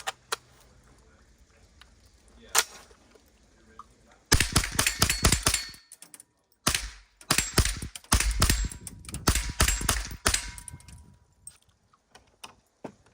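A Springfield Saint Victor AR-15 rifle fires through a magazine outdoors: after a few quieter pops, dense bursts of rapid, loud, sharp shots crack in close succession, pausing briefly before more strings of fire.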